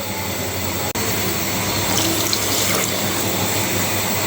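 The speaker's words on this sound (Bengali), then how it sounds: "এখন আমি ঝোল দিয়ে দিলাম" Broth poured into a pan of taro being cooked for a salted hilsa curry, a loud steady rushing pour with a brief break near the start, close and uninterrupted.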